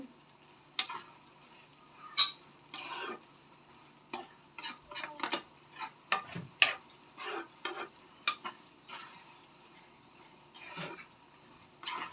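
Semiya kesari with ghee being stirred in a pan: a spoon scrapes and taps against the metal in a run of short, close strokes, some louder knocks among them, with no voice.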